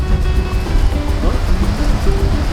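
Sea waves wash onto a white sandy beach at Cable Beach, a continuous broadband surf roar with wind, while a voice talks over it.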